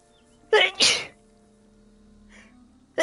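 A close, loud sneeze in two quick bursts, an intake and then the release, followed by a quiet pause and a faint voice.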